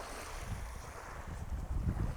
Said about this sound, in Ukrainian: Віка тут дує все, що можна і все, що не можна.